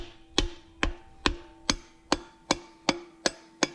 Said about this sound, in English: Now we're going to get our trusty dandy handy hammer here.